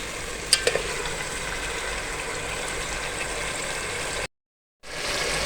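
Aloo matar pulao ingredients sauté in a pan with a steady, close sizzle and a few light stirring clicks near the start, the frying cutting out briefly near the end before resuming.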